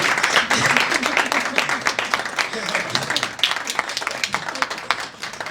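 An audience at an awards event at Lincoln Center applauds with dense, steady clapping that fades slightly near the end, with voices mixed in.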